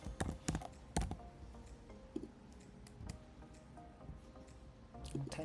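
Computer keyboard typing while writing a Java enum, faint scattered key clicks and taps in irregular bursts, close and quiet with no talk.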